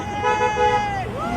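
Car horns honk at a street protest for impeachment, a sustained steady toot with a second horn joining, amid traffic noise and crowd babble, with people talking nearby.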